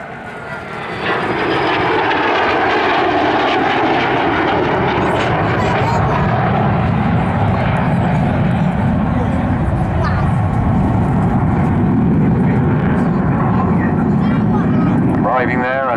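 A SAAB 37 Viggen jet fighter flies a display at a seaside airshow, its engine a loud, continuous roar that swells early on and holds steady, with a public-address announcer talking over it throughout.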